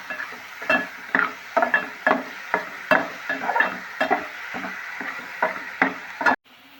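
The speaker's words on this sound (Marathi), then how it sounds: "ह्याच्यामध्ये आपण आंबोशी टाकून घेऊया, मिक्स करून घेऊया." Amboshi, dried raw mango, being stirred into shevla vegetable in a pan: a steady run of scraping, clacking spoon strokes against the metal roughly twice a second, close and fairly loud, with a soft sizzle beneath and no talk.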